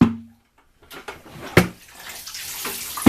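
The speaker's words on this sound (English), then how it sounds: "I just drain it into my special bucket with holes" Soapy laundry water drains out through a plastic bucket punched with holes, giving a gushing, splashing pour with a few louder sloshes after a short quiet start.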